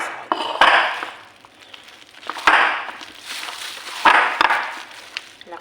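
Bananas being crushed in a bowl for a peanut butter banana cake, giving three bursts of clattering, scraping knocks against the bowl spread across a few seconds with quieter mashing between.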